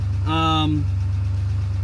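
A DeLorean engine idles with a steady low rumble and a rhythmic pulse that continues throughout, while someone speaks briefly over it.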